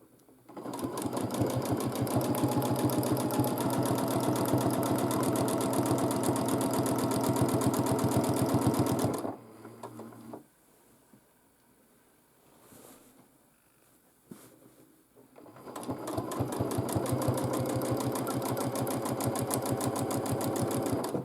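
A domestic sewing machine quilts a large quilt, its needle running in a fast, steady rattle for about nine seconds, stopping for several quiet seconds, then starting again and running loud to the end.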